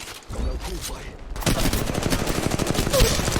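Video game gunfire, a quiet, muffled stretch followed by a loud, close burst of rapid automatic shots firing in a fast, steady rhythm to the end.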